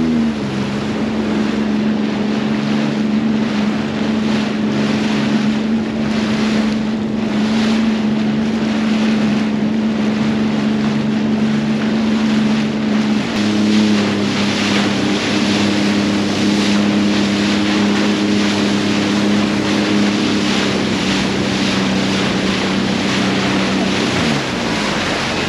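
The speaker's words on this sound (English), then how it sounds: "Empire Sandy is just leaving here to get onto the water." Steam tug Empire Sandy heading out of port onto choppy open water, a steady low engine drone with a constant tonal hum, wind buffeting the microphone and wash throughout, no talk.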